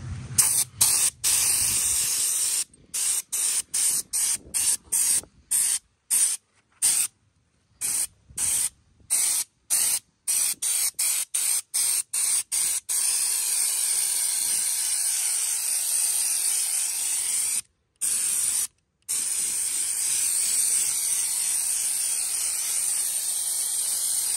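A spray gun lays Raptor liner coating onto a Tahoe bumper in bursts of loud, close hissing, starting and stopping repeatedly before settling into a long continuous spray.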